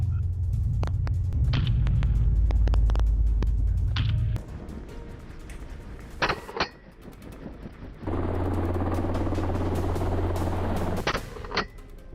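Helicopter flying during an aerial coyote hunt, a steady loud rotor and engine rumble that drops back partway through, with mechanical clatter and sharp bursts, then swells again to a constant drone.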